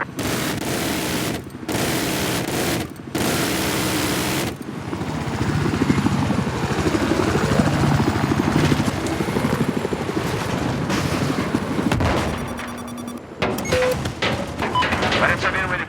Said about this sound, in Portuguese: Parece haver um helicóptero inimigo a esta sua localização.